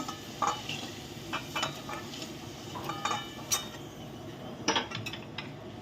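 Potato pieces seasoned with salt and turmeric fry in oil for a Bengali chital fish muitha, a moderate sizzle punctuated by sharp clinks and scrapes of a spatula against the pan.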